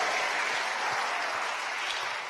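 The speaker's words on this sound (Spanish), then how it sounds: "Démosle palmas a su nombre." A church congregation applauding, a dense, continuous wash of many hands clapping at moderate distance, sustained evenly throughout with no clear speech.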